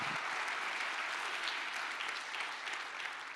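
A church congregation applauds during a sermon, producing a steady, dense wash of many hands clapping throughout at an even, moderate level with no voices above it.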